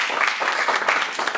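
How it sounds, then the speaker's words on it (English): Short burst of steady audience applause for a guest presenter at a university session, moderately loud and continuous. "We'd like to give you a round of applause"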